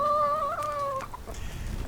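Chickens on a small organic farm: a couple of near, drawn-out clucking calls, then quieter scratchy farmyard noise.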